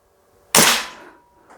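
A single sharp crack from an Air Venturi Springfield Armory M1 Carbine CO2 BB rifle firing outdoors, loud and close, with a brief decaying tail and no talk.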